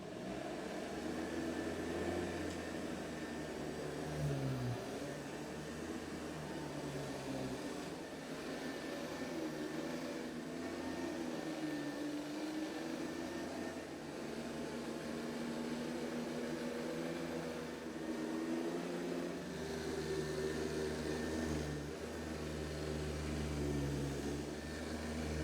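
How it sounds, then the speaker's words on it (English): A 1978 Hoover Convertible U4123 upright vacuum cleaner runs steadily on carpet, its motor making a continuous loud whirring drone with slight shifts in pitch as it is pushed back and forth, and no voices. "we have got the Hoover Convertible model U4123 all plugged in and ready to go."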